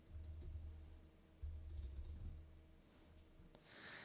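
Someone types on a computer keyboard while writing a system overview into a chat, with soft, quiet key taps running through most of the stretch over a steady low hum.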